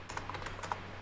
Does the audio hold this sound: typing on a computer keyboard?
yes